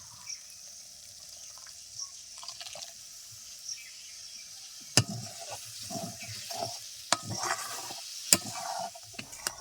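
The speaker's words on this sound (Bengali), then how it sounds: "মশলা কষানো হয়ে গেছে তেল ছাড়তে শুরু করেছে এখন দিয়ে দেবো ফেটিয়ে রাখা টক দই" Beaten sour yogurt stirred into frying spice paste in a pan for a Bengali village-style yogurt pointed gourd dish, with a steady soft sizzle and occasional sharp spoon scrapes and knocks against the pan.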